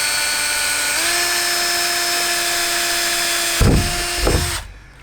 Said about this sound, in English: What you do is you drill in the middle first.